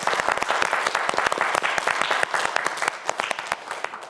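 Studio audience applause on a Korean quiz show, a dense, steady burst of many hands clapping close up and loud throughout, with no talk over it.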